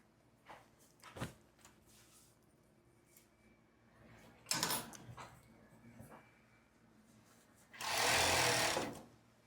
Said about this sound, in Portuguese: E a gente vai passar uma costura na lateral